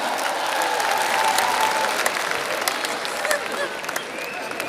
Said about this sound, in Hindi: ताली बजाओ दोनों हाथ उठा के।